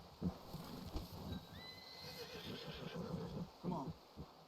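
A horse in the game Red Dead Redemption 2 gives a soft whinny amid hoof clops and shuffling, with talking over it and a faint tonal game sound in the background.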